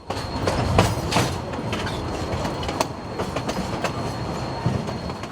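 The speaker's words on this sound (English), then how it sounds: "The train rolls into a long tunnel carved out of a mountain" A train rolls along a railroad track toward a long mountain tunnel near Toltec Gorge, with a continuous loud rumble and rhythmic clickety-clack of wheels over rail joints, plus occasional sharp metallic clanks.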